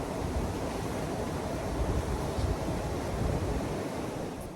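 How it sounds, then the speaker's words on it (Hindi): Strong, cold wind blows outdoors in Rishikesh. A loud, continuous roaring rush buffets the microphone for the whole stretch, with no voices. "हवा भाई बहुत तेज़ चल रही है यहाँ पे ना, ठंड लग रही है मुझे तो बड़ी"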